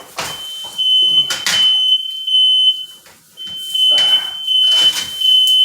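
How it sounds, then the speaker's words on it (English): Smoke alarm set off by searing ribs indoors with a flamethrower: a loud, piercing high-pitched beep sounds in repeated bursts, broken by brief pauses and mixed with clattering cooking noise. "Let's set off the smoke alarm."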